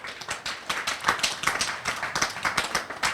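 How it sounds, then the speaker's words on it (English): At a summit brunch, the audience claps in rhythmic, fairly close bursts, a steady pulsing patter that grows louder midway and continues to the end. "Let's clap it up."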